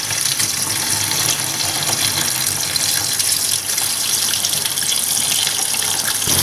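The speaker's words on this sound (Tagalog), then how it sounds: "i-drain lang natin siya on a running cold water" Cold tap water runs steadily over freshly cooked spaghetti noodles being rinsed and drained in a sink, a continuous close splashing gush with no talking.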